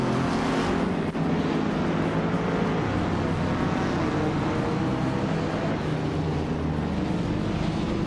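Vintage street cars, among them a 1951 Ferrari 212 Export, race at Montmeló, their engines droning loud and steady together in a continuous roar with no letup.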